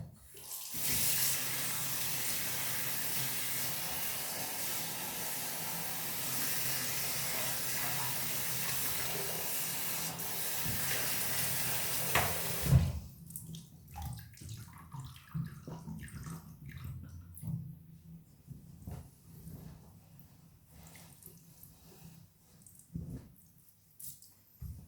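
Running water rinses shampoo out of hair: a steady, close hiss of flowing water for about twelve seconds, then it stops, leaving faint scattered handling noises and dripping.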